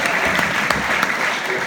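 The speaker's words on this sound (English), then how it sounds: "Give them a big round of applause." A live audience at a hypnotist comedy show at Alvernia University claps steadily, a dense continuous patter of many hands, fairly loud and close throughout.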